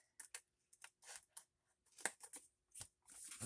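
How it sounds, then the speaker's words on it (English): Scissors snip through cardstock to cut out small playing-card journaling cards, making a quiet close series of short crisp cuts and paper rustles with brief pauses between. "So now I'm going to cut each one of these little cards out"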